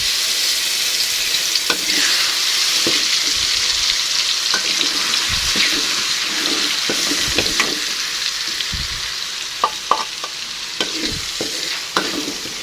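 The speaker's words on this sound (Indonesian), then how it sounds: "Nah, setelah minyaknya panas, ini langsung aja saya mau tuangkan bumbunya." Spice paste hits hot oil and sautés with a steady, close sizzle, broken by scraping stirs and small clinks of the spatula as the paste for a jackfruit coconut-milk curry cooks, with no talking.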